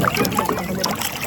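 A boat moving across Mandal lake, with a brief, close wash of water and gentle trickling along the hull and no voices.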